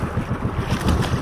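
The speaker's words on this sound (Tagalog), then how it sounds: "nagdudulot ata ito ng alon tong barkong to" A ship in a video game cuts through water and leaves waves behind it, making a steady rushing wash with a rhythmic low sloshing underneath.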